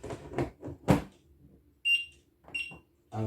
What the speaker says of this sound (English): There's that single beep.